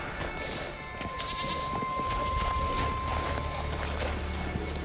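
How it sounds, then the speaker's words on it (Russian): In The Witcher 3: Wild Hunt, goats bleat repeatedly amid game ambience and footsteps, producing several overlapping wavering calls over a steady background hum. "Козлики мешаются."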